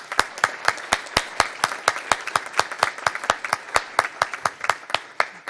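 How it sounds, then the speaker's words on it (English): A small crowd claps at a community First Friday town gathering, sharp individual hand claps repeating steadily and fairly close for several seconds, with no talking over them. "So let's give ourselves a round of applause."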